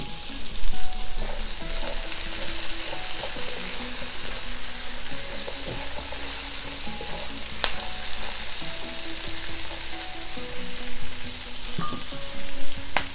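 Spring onions fry in a hot pan for beef and broccoli, making a loud, continuous, close sizzle. Faint clinks of stirring and scraping sit on top of it, with no voices.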